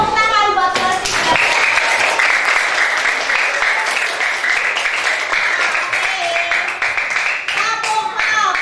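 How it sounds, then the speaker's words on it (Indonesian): A third-grade class applauds together in a classroom, loud sustained rhythmic clapping from many children, with a teacher's voice and kids' chatter at the start and end. "Tepuk tangan buat kelas 3."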